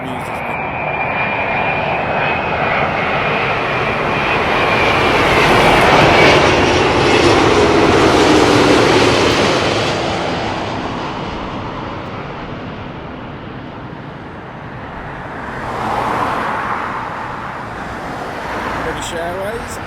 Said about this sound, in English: Delta Airlines, Airbus A330-941, and that is coming in from Seattle.